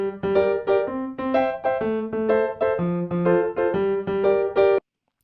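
A simple piano tune played back through Ableton Live, with a steady run of clear single notes and chords in a plain repeating melody, close and clean with no voices, ending abruptly.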